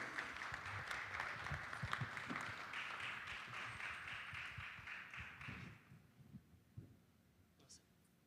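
An audience at a blockchain summit applauds panelists, and the faint, muffled clapping fades out after about six seconds, leaving scattered thumps.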